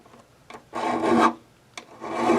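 An abrasive rasp is swiped over the crackle-finish neck of an Ovation Applause guitar, two close, dry, scraping strokes with short ticks between them.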